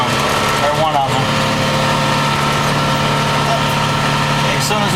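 A farm tractor engine runs steadily with a low, continuous drone while a Kinze planter is lowered, holding a constant idle-like hum with some rattling vibration, and faint talk mixes in briefly under the engine.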